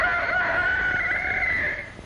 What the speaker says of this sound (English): Very early in the morning, the rooster sends out his call,